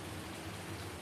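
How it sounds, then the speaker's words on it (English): Steady rain falls on a farm, a dense, even hiss with low rumble throughout, continuous and without voices. "it's just raining"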